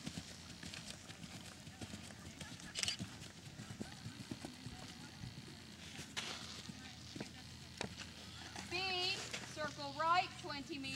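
A horse's hooves in a working trot, a faint, regular clip-clop rhythm at a distance, with soft background noise and a few brief higher tones near the end.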